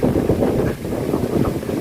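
Strong wind gusts roar across the microphone outdoors at night in a forest cemetery, a loud, continuous, rumbling blast that swells and dips with no voices.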